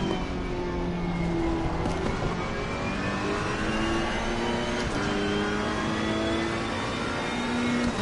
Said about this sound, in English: Look at how long it's going to take to get to 6th gear.